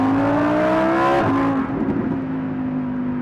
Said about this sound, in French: super bruit la Mustang, super bruit